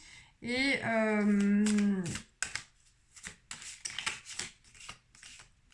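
Tarot cards being shuffled and drawn: a sustained humming tone, then a run of crisp clicks and soft slaps as cards are handled and laid down, close by.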